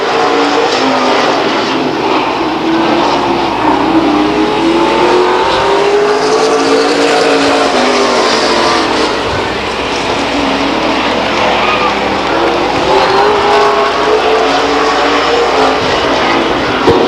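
Race cars at Stockton 99 Speedway, a short oval track, in 2002, a loud continuous roar of multiple engines with rising and falling pitch sweeps as cars pass, sustained throughout.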